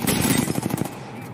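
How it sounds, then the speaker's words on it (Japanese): Airstrike explosions in Apex Legends, a rapid, loud burst of blasts crackling together for under a second before trailing off into quiet. "ナイス空爆。"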